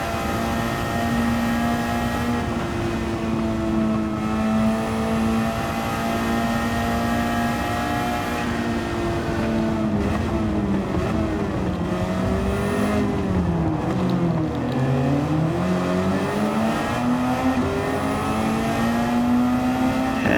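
A race car engine drones loudly and continuously around the St. Croix Circuit, holding a high steady pitch, then dipping and climbing through gear changes and corners before settling back into a sustained whine.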